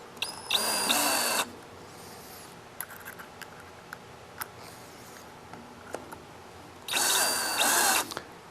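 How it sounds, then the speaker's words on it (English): A power drill drives screws to fasten a faceplate onto a wooden bowl blank, with two loud close whirring bursts at the start and end and quiet clicks and handling noises between them. "we can screw the faceplate down"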